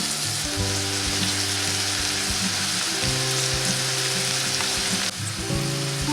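Steak cooking in a frying pan gives a loud, close, steady sizzle and crackle, with a low tonal hum running beneath and a brief dip near the end; no one speaks.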